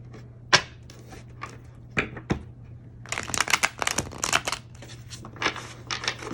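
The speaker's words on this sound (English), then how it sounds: "One more shuffle." Tarot cards being shuffled up close: a few separate riffles and flicks, then a longer burst of rapid shuffling, crisp and fairly loud, no voices.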